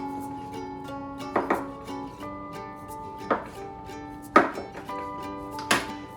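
A knife or bench scraper presses down through bread dough on a board, dividing it into thirds with a few distinct thumping cuts spaced seconds apart over quiet background music.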